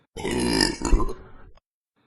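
A single loud, close burp rumbles for over a second and then fades, followed by silence.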